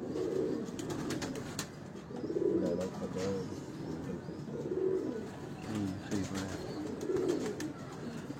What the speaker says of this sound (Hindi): अब ये एक और कबूतर है दोस्तों